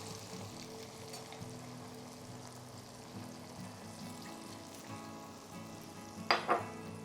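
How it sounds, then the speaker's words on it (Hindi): Sausages sizzle and fry in a pan over a high flame, a steady close crackle running throughout, with a couple of brief louder spatters near the end. "हाई फ्लेम पर 1 मिनट तक सॉसेस को सिजिल कर लेंगे।"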